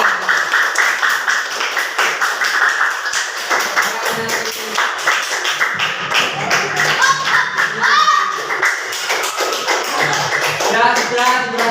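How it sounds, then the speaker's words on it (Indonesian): Children in a classroom clap, with bursts of quick, uneven hand claps and tapping that run through the whole stretch, mixed with voices and chatter. "Kalau dikasih tepuk tangan biar semangat."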